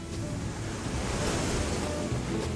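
Ocean surf rolls in along the wild California coastline, a constant broad wash of breaking waves with a hint of wind, steady and fairly close.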